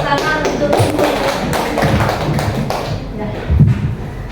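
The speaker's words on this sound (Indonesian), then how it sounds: "Tepuk tangan untuk" A small group claps in a classroom, uneven bursts of taps and thuds with voices talking over and between them.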